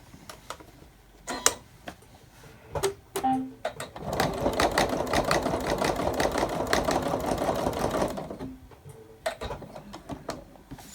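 A sewing machine runs steadily for several seconds, stitching the top seam of a homemade fabric laptop bag, with scattered clicks and handling noises before and after the close, rhythmic whir.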